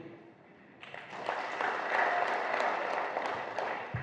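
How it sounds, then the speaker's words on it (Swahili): Loan-group members at a community meeting applaud themselves, a burst of clapping that rises after a quiet start, holds for about three seconds, then tapers off, moderately near. "Kwa hiyo ninyi jipigieni makofi kwa kusubutu."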